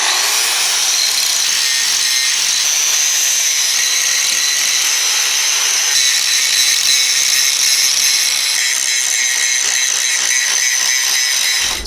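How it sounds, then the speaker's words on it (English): Angle grinder grinding a large metal wrench into a short sword, a loud, continuous harsh abrasive screech close up that holds steady throughout with slight shifts in pitch as pressure changes, no talking. "Time for grinding."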